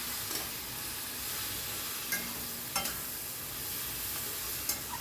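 Fish mash with fried dried chillies and chopped coriander being mixed in a pan, faint soft stirring with a few light scrapes over a quiet background hiss.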